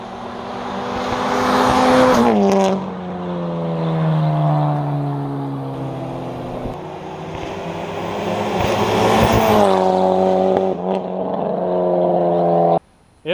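A turbo-kitted Pontiac Solstice drives hard on a closed racetrack, its engine climbing through gears in rising harmonic sweeps with sharp shift breaks, loud and close throughout with no talk.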